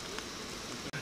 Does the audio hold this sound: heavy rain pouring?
yes